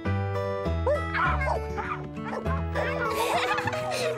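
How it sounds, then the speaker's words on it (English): Cartoon puppies in a newborn litter bark and yip in quick, high, overlapping bursts over a steady music bed, close and fairly loud throughout. "Come on in and meet all the puppies."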